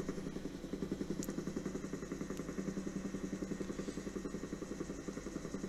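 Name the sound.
aircraft propeller blades whipping the air in flight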